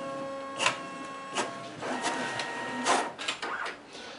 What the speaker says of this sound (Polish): ile Broderowi MFC-J200 zajmie skopiowanie tego pojedynczego dokumentu